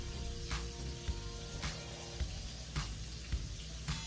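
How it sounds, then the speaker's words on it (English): Burgers fry on a stove in the background, a faint steady sizzle with occasional soft pops and clinks nearby. "I actually have burgers frying on the stove, so that's what you hear in the background."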